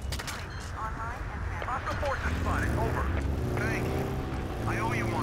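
Helicopter flying in the Battlefield 2 video game during a multiplayer match: a steady rotor and engine drone running under a busy battle mix with scattered gunfire and someone talking over it.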